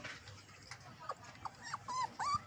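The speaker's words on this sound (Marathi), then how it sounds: "ही आहे छोटी छोटी पिल्लं बघू शकता तुम्ही पिल्लं खूपच सुंदर सुंदर पिल्लं आहेत" Small puppies from a litter of eight whimper and whine in short, high, wavering cries that grow louder toward the end. A few soft yips are heard close by over a quiet background.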